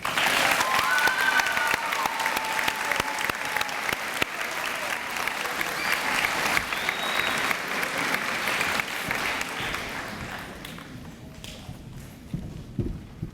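A crowd at an eighth grade promotion ceremony claps for subject award winners. The applause is full and continuous, with a few louder individual claps, and thins out gradually over the last few seconds.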